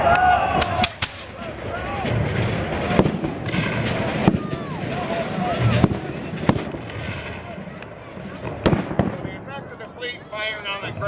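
Cannon fire during a Battle of York 1813 re-enactment: a string of sharp, booming blasts at irregular intervals over a steady rumble of battlefield noise, with voices mixed in.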